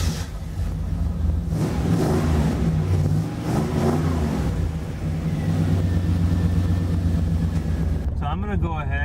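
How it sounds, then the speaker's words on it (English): Pontiac Firebird with a Magnaflow exhaust and a new transmission mount, its engine rumbling steadily and loudly close by with a revving surge near the end, talk mixed in. "we'll end this on a little exhaust note"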